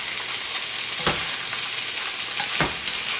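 Canned salmon and vegetables sizzle steadily in a sauté pan, a dense continuous hiss broken by a few soft stirring scrapes, close and alone with no voices.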